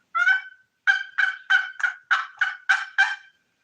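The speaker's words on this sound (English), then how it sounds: "He gobbled back." A wild turkey gobbles in reply to an old wooden box call, one call followed by a rapid run of about seven loud, clear gobbling bursts in quick succession, alone with no talking.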